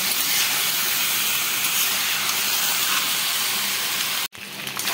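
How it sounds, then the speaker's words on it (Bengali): Chicken pieces fry in white oil over a high flame, giving a loud, continuous broadband sizzle close up that drops out abruptly near the end before resuming more quietly. "এবারে চিকেনগুলোকে আমি এই সাদা তেলের মধ্যে একটু ফ্রাই করে নেব।"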